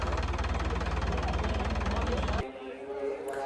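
A diesel tractor engine at the Hola Mohalla festival in Anandpur Sahib idles with a steady rhythmic chugging that cuts off abruptly partway through, leaving quieter background.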